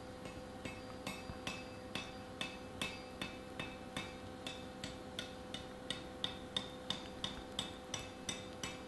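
A blacksmith's hammer strikes an iron stirrup collar to close it up, producing a steady series of sharp metallic blows about every half second, ringing and evenly spaced over a faint hum, with no talking.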